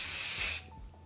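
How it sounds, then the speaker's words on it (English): IGK 1-800 Hold Me No Crunch flexible hold hairspray hisses out of its can in one close, steady aerosol burst of about half a second, then cuts off into quiet. "And just spray that everywhere."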